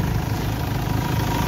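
A second-hand Mahindra Scorpio automatic SUV idles with a steady, even diesel rumble and a faint cover rattle, close and continuous with no talk.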